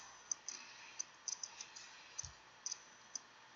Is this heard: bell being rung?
no